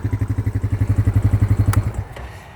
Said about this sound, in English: it's a regular old Honda Foreman